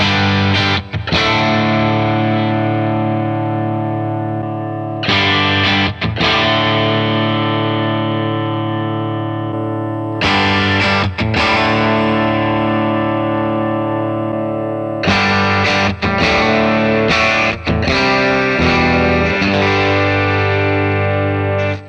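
An electric guitar is played through Dr. Z Z-80 amp presets and captures, with loud distorted chords that ring out and are struck again in four repeated passages, alone without talking.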